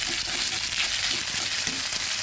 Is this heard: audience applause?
no